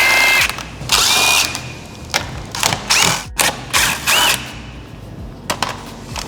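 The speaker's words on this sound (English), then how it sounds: "We're going to remove those all the way around the bumper." Power tool driving out screws from the bumper of a 2023 BMW M3 Touring (G81), loud close whirring bursts with ratcheting stops, several short runs separated by brief pauses.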